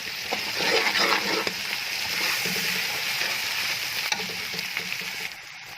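Garlic, ginger and onions frying in a pan, a steady, close hiss of sizzling oil with occasional soft pops and a brief stir.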